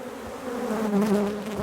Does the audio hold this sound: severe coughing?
no